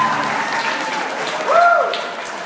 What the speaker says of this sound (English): another big round of applause for the father of the bride and her beautiful boy.